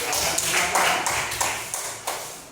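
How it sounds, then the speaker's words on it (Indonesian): Schoolchildren in a primary classroom clap for their classmates, a short run of sharp, repeated claps close by with a few voices mixed in. "Berikan aplaus"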